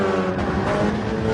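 A Porsche race car in a multiclass Gran Turismo endurance race at Le Mans, its engine holding a steady, loud, continuous drone throughout with no talking.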